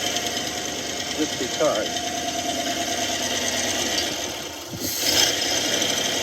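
Engine of an old truck running steadily with a slight valve tap, a continuous close idle with a faint ticking rhythm, as people talk over it.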